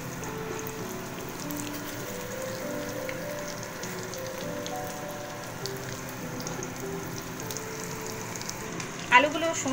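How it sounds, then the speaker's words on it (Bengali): Boiled potatoes fry lightly in a pan of oil for Shahi dum aloo, a steady soft sizzle running throughout at moderate level, with a few brief clinks near the end. "হালকাভাবে ভেজে আমি এবার এগুলোকে তুলে নিচ্ছি"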